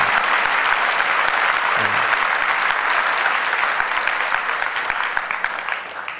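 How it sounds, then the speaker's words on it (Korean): A church congregation at a worship service claps together in dense, sustained applause that stays loud and full before thinning slightly toward the end. "이 친구를 위해서 한번 뜨거운 격려의 박수 좀 해주면 좋겠어요"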